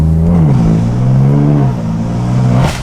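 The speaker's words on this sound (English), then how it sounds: "I love this car. It's so loud." A loud, close car engine revs up and down in quick surges, its pitch rising and dipping.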